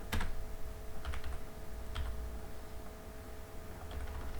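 Typing on a computer keyboard sounds as scattered keystrokes in small clusters over a faint steady hum, close but fairly quiet.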